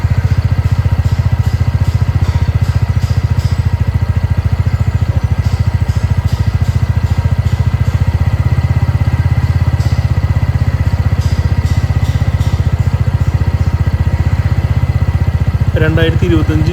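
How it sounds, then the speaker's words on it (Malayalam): A TVS Ntorq 125 Race XP scooter engine idles close by with a steady low throbbing rumble and light rattling, running evenly throughout. "ഇനി എൻജിൻ്റെ സൗണ്ട് കേൾക്കാം"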